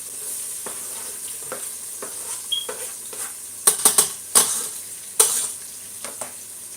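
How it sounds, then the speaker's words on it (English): Onions added to a hot pan, frying for a Christmas meal: a steady close sizzle with scattered stirring scrapes and a few sharp clinks of utensil against the pan, no talk. "So now I add the onions."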